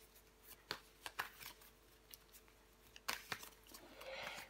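Tarot cards are shuffled quietly in a series of soft, irregular riffles and flicks, faint and close, with no talk over them.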